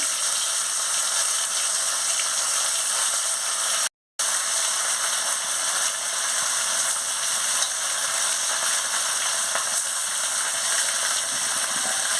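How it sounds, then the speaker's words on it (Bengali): Fish frying in hot oil in a wok, a loud, even, hissing sizzle that runs steadily throughout, broken only by one brief moment of silence. "গরম হয়ে গেছে, এবারে মাছটা দিয়ে দিচ্ছি।"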